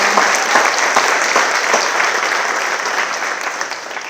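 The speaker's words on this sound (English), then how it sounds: "Let's have one more big round of applause for Dr. Sanchez." A big round of applause from an awards ceremony audience at a student award night, dense steady clapping filling the room loudly and evenly throughout, tapering only slightly at the end with no voices over it.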